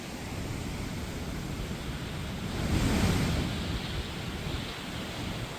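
Floodwater released from the Nandur Madhmeshwar dam roars as a steady, loud broadband rush, swelling briefly midway and continuing unbroken with no voices.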